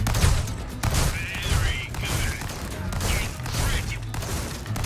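Gunfire in the Resident Evil 4 Remake video game: repeated bursts of shots with heavy low thumps run nearly continuously through the game's loud action noise, with a voice talking over it.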